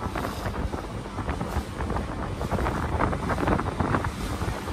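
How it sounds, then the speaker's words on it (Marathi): Steady wind buffeting a small passenger boat on a trip off Alibag, a continuous loud rush with a rumbling low end and no voices. "याच खूप छान वाटते बोटमध्ये बसल्यानंतर, थंड हवा लागते"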